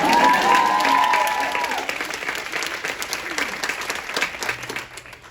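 Audience applauding with some cheering for former First Lady Michelle Obama at a Give to Women and Girls Day event, loud at first and thinning out over about five seconds while voices mix in.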